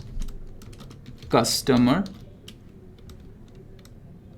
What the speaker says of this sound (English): So I will start off by typing in